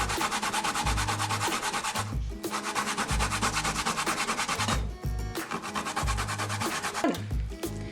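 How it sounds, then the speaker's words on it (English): Sweet potatoes being grated by hand for a Jamaican sweet potato pudding, three pounds in all: fast, steady rasping strokes repeat up close and loud, with a couple of brief pauses between bursts. "this took me like about 7 minutes to grate. 3 pounds of sweet potato."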